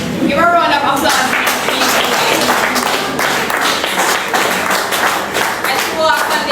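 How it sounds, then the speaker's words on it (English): Audience clapping at a public gathering in Jamaica, a dense, steady wash of hand claps held for several seconds, with voices and cheers mixed into the crowd noise. "Give a round of applause."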